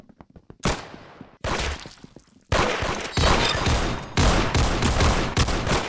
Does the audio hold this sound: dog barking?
no